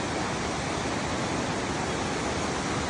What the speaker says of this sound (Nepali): झरना हेर न झरनाको साइडमा हुन्छ हामी